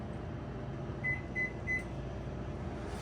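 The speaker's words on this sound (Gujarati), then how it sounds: "40 મિનિટ મૂકી દીધી માઇક્રોવેવમાં." A microwave oven hums steadily while heating an egg muffin, with three short, evenly spaced electronic beeps partway through and no talking.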